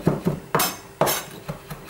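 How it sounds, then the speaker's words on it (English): Knife finely chopping fresh herbs with their stalks on a chopping board, a quick series of sharp close taps at an uneven rhythm, with no talking. "I'm going to finely chop that with the stalks"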